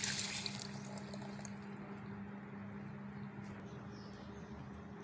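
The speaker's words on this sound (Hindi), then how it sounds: "पानी डाल लेंगे।" Water is poured in while making papaya juice, starting as a loud splashing rush that quickly drops to a softer, continuing trickle.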